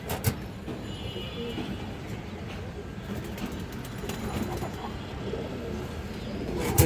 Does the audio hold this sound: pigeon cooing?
yes